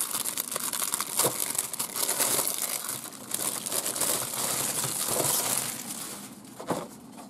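A plastic bag holding MiG-29 fighter model kit parts is opened and handled, giving close, continuous crinkling and rustling with a few sharper crackles.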